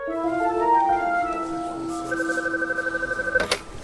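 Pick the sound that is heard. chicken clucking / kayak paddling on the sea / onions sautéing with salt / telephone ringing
telephone ringing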